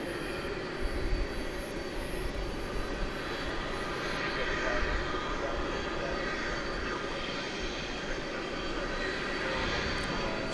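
A jet airliner comes in on runway 18 left at DFW Airport at night, its engine roar a steady, broad rumble held at a loud level throughout, with faint voices underneath.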